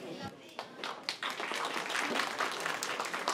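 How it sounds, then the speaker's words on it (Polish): Steady applause from a crowd, many hands clapping continuously and fairly loud, starting after a brief pause. "Ogromne brawa dla zespołu szkół w Bibicach"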